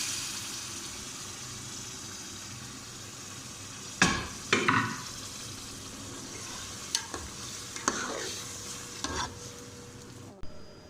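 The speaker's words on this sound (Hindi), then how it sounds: "उसमें जो मसाले वाला पानी है वो भी सब हम इसमें डालेंगे" Spiced cooking water from pressure-cooked meat sizzles and hisses steadily in a hot pan while making spicy chatpata gosht, broken by a few sharp clinks and scrapes of stirring, with no one talking.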